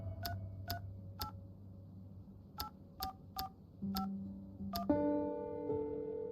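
Phone keypad tones in the video game Discolored, eight separate beeps in an uneven rhythm over a low hum, then a steady ringing tone carrying on at the end.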